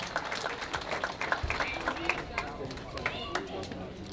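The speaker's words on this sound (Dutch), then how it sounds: "Ja, graag jullie applaus." Audience applause at a youth award ceremony in Mill en Sint Hubert, scattered irregular clapping with crowd murmur and voices mixed in, moderately near.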